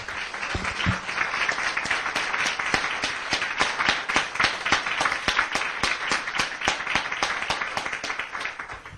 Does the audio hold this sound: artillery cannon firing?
no